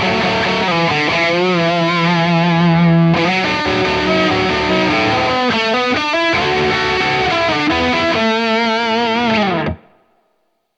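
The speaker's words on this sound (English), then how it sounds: "here is the tone using the Kinky Boost, the Minotaur, and the second channel of the Imperial" An electric guitar plays a southern rock riff through a Kinky Boost, a Minotaur overdrive and the second channel of a Tone King Imperial preamp, loud, distorted and sustained, with chords and bends, stopping cleanly near the end.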